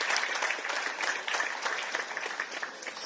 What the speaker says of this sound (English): I think Dr. Kapua deserves another round of applause